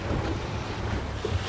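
A Regulator 34 center-console boat with Enertia 18 propellers runs under power on a groundswell, giving a steady, close engine rumble mixed with wind buffeting and water wash throughout.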